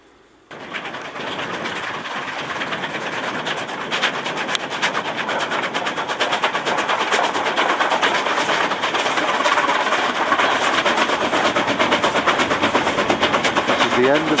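An eastbound-to-westbound train on the Ji Tong line in China rolls past after a sudden onset, a loud, continuous rumble with rhythmic wheel clatter, and a voice speaks briefly over it.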